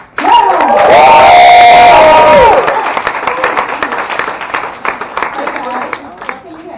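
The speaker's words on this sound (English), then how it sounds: "please give a big round of applause for your next guest" Loud cheering and whooping burst out at the start, then settle into sustained applause from the audience at a beginner stand-up comedy show in Berlin as the next comedian is welcomed.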